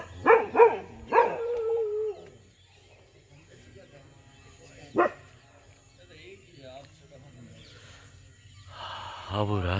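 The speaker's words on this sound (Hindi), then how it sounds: "कुत्ते एंजॉय करते हुए।" Dogs barking outdoors on a pilgrimage route around Mount Abu: a quick burst of three or four yelping barks at the start, one more sharp bark midway, with people talking in the background.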